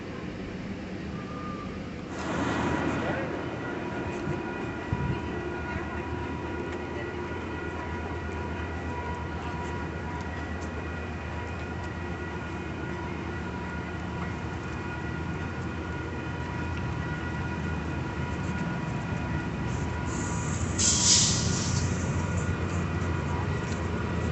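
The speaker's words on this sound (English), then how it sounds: "the train just left" A passenger train departing San Clemente station, California, rumbles steadily nearby, its engine drone building slowly as it pulls away, with a brief hiss near the start and another toward the end.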